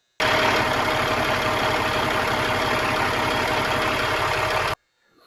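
A Cat 3406E diesel engine idles steadily, a close, even low rumble with a fine rhythmic pulse and whine that holds unchanged for several seconds before cutting off abruptly.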